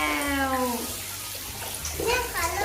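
A bath fizzer dissolves in bathtub water with a soft, continuous fizzing hiss, while a child and an adult talk over it.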